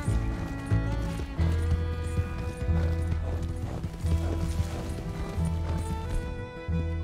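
A horse gallops with rapid hoofbeats in Red Dead Redemption 2, kept steady under loud, sustained in-game music with no voices.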